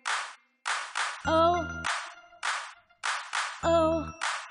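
Several crisp hand claps keep time with a children's Bingo rhyme, falling in groups of two or three between short sustained synthesized notes, loud and close in a steady rhythm.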